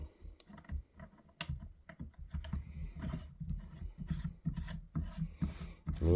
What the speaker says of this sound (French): je vais visser un petit silencieux le